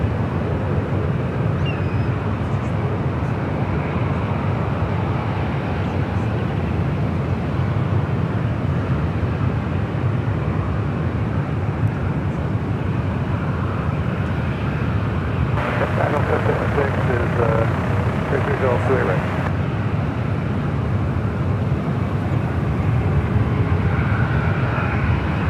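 A Condor Airbus A330neo in beach beige livery takes off from runway 28 left at San Francisco, bound for Frankfurt, producing a steady, unbroken broadband jet roar for the whole stretch, with voices faintly over it.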